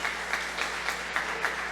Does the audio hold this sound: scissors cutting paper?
no